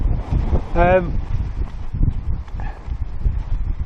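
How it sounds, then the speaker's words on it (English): Strong gale-force wind buffets the microphone with a steady low roar at a wild campsite on Swine's Back in the Peak District, while a voice briefly speaks over the gusts. "it's blooming windy. It's blowing a blinking gale."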